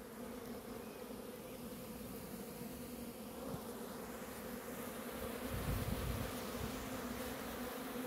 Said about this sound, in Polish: Także bardzo grzeczne są pszczoły.